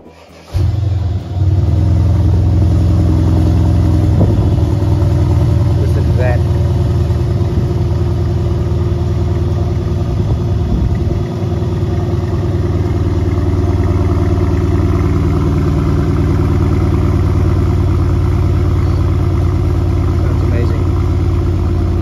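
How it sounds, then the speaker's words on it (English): A 2013 Mercedes-Benz CLS500 engine cranks and catches, then settles into a steady, loud low idle with a deep rumble that continues throughout. "I'll start this engine and you can hear it as well."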